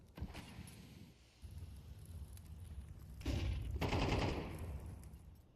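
Gunfire rattles through a Counter-Strike match on the Mirage map, with bursts of automatic shots and a louder, denser volley near the end, moderately loud in the mix.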